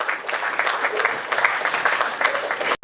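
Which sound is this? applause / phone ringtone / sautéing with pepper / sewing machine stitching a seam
applause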